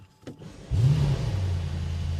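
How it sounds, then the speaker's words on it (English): A Brabus GT930 fires up in Sport Plus mode with an emotion start while still cold, giving a brief whir and then a loud close engine bark that settles into a steady idle rumble. "hold one shift pedal while starting up the engine"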